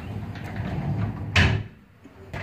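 A three-panel folding door being opened in a child's bedroom gives a soft sliding rumble, then one sharper knock or clack as a panel folds, followed by a quieter tap at the end.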